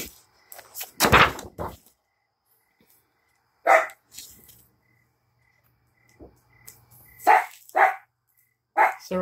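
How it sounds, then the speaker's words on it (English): Dogs barking in short separate bursts, a few near and loud with quiet gaps between, alongside faint insect-like chirping in a quiet indoor setting. "Sorry for my dogs barking."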